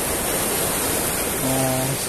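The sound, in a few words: ocean waves breaking on a beach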